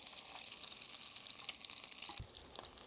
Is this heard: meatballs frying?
yes